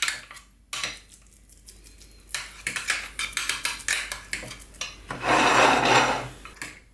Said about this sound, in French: à l'aide d'une cuillère, je vais venir donc former mon rectangle